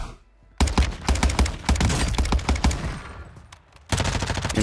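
Cronen Squall rifle gunfire in Warzone 2 rattles out in loud, rapid bursts of sharp shots, pausing briefly before another close volley.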